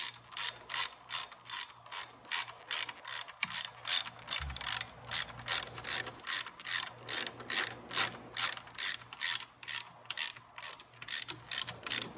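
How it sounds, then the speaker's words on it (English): A ratchet wrench tightens a 17 mm motor mount nut on a 125cc motorcycle, with rapid metallic pawl clicks in regular back-and-forth bursts, close and loud, continuing steadily with no talking. "I have to get a wrench for the other side so I can tighten that up nice."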